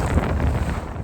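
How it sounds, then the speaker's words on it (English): Strong gusting wind on a small sailboat on a lake with building waves and whitecaps, a loud, low buffeting rumble battering the microphone for a second. "And you can hear the wind."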